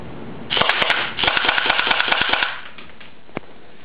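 H&K P30 electric airsoft gun firing full auto in two rapid buzzing bursts of closely spaced shots, each about a second long, followed by a single faint click.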